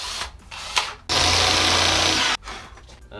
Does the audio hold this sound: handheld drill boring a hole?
yes